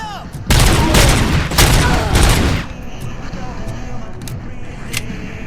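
Loud, close gunfire in the video game Robocop Rogue City, a burst of rapid shots lasting about two seconds, then scattered lighter shots over a low background rumble.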